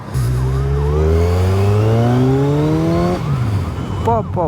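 A Kawasaki Z1000 with its stock exhaust revs hard and loud, the engine note climbing steadily for about three seconds before dropping back, with a few quick blips near the end.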